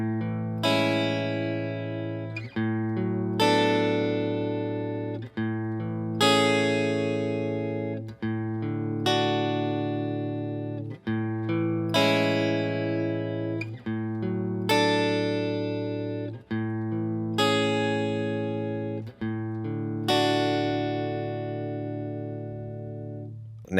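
Guitar playing a chord progression, a repeating cycle of picked chords struck every few seconds, each ringing out and decaying before the next, fairly quiet with no talking.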